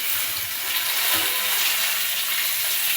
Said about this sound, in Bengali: দেখো বন্ধুরা, আমার আলু ভাজা প্রায় হয়ে এসছে।